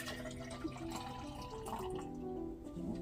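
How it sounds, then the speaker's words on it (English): Purple Brussels sprout juice pours into a glass with a quiet, continuous trickle and gurgle that rises slightly in pitch as it fills, close and soft against a faint background. "So we are going to pour our drink in our glass"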